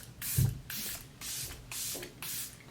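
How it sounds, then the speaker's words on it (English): Airbrush Flawless Setting Spray misted from a pump bottle, four short hissing bursts spaced evenly, close and clear with no talk. "I'm gonna go in with the Airbrush Flawless Setting Spray."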